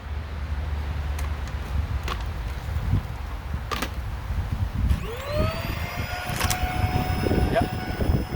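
A Hoover Air Steerable upright vacuum cleaner runs with a steady, strained drone that sounds clogged, with a rising whine entering partway through and faint clicks over the continuous motor noise.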